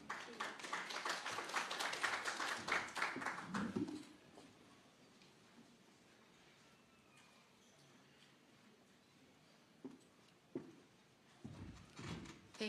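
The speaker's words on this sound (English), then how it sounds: "A round of applause for Ms." Applause from an audience at a media breakfast rises loud and dense for about four seconds, then fades to a quiet room with a few scattered claps and some talk near the end.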